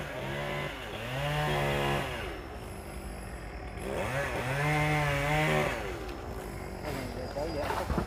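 A chainsaw cutting golden-flower acacia trees revs up and down in two long surges, loud and close, its pitch climbing and falling as it cuts.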